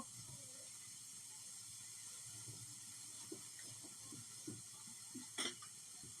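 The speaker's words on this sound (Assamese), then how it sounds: "অকণমান ঘিত ধুনীয়াকৈ ফ্ৰাই কৰি ল'ম" Food frying in ghee gives a faint, steady hiss and sizzle throughout, with soft background murmurs and a few light clicks near the end.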